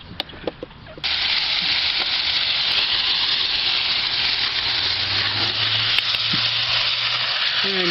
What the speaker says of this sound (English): I'm just going to rinse it out and place it back in